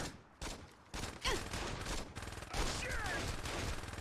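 Bursts of gunfire from the video game Saints Row 2 crackle in rapid volleys, loud and dense, with repeated sharp onsets and sustained firing running through most of the stretch.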